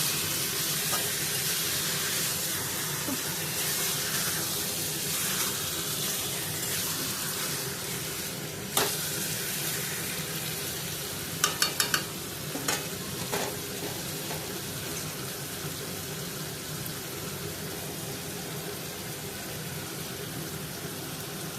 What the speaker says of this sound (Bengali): ফাইনাল ঢেলে দিয়ে অল্প ভালো করে নাড়াচাড়া করি